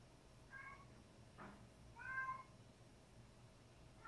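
A house cat meows three times in a quiet room: a short meow, a pause with a faint soft noise, then a longer, louder meow, all close by with no talking.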